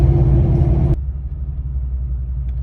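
A 2019 Ram Rebel truck on 33-inch tires and 22-inch wheels, its engine loud and close with a brief high rev before dropping to a steady low rumble.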